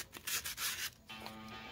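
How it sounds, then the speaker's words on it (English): Sandpaper rubs along the edges of small ribs for a model glider, giving several short, close scratchy bursts of rubbing followed by a steadier, quieter stretch of friction noise. "Sand all the edges until they become smooth and there are no rough spots or burrs."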